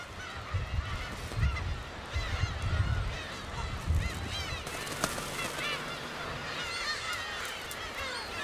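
A huge colony of around ten thousand black-tailed gulls covers the rocky island of Dokdo in spring, a dense, continuous din of overlapping cat-like calls and honks from many birds near and far.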